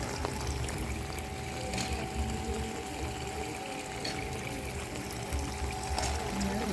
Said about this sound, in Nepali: पानी पसेर चाहिँ मुनि झर्छ